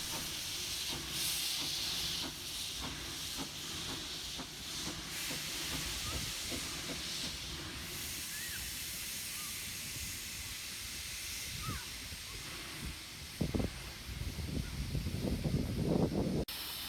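Steady loud hissing of steam from a nearby shunting locomotive, with occasional clanks and a rumbling burst of movement near the end.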